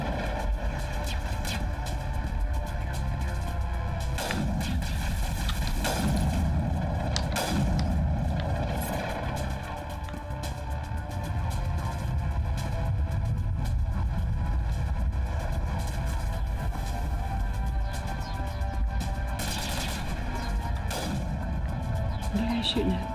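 Gunfire in the Mass Effect video game: dense, continuous volleys of shots and thuds throughout, steady and moderately loud with a rumbling low end.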